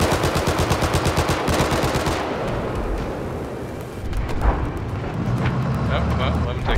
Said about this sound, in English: West of your current location, there is a hostile machine gunner.